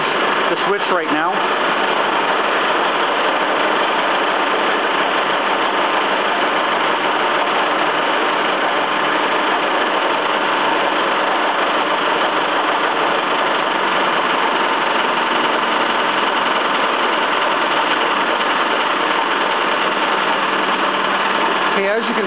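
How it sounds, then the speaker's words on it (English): On a Bedini machine, a motor drives an alternator with a continuous, steady mechanical hum that stays even and close throughout. "when I engage the switch, the motor began to slow down a little bit"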